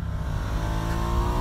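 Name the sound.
Ducati Diavel 1260 S motorcycle accelerating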